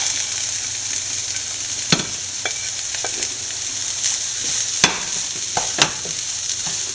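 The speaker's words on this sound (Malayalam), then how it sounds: "നമുക്ക് ബ്രോക്കോളി ഇട്ട് കൊടുക്കാം." Broccoli and scrambled egg for a thoran frying in a pan, loud close sizzling with repeated sharp spatula scrapes and knocks as the mix is stirred, no voices.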